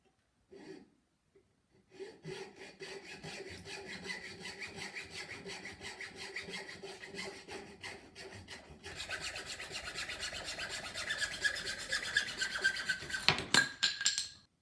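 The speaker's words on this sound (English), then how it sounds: "I got it marked right where I want to cut it, and now I'm going to start cutting" A wooden broomstick handle is sawn by hand, giving a steady rasping back-and-forth stroke at close range that grows louder and brighter toward the end before it suddenly stops.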